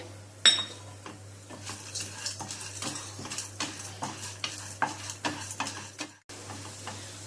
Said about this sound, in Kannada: ಉದ್ದಿನಬೇಳೆ ಕಡಲೆಬೇಳೆ ಹುರಿತಿರೋ ಹಾಗೆ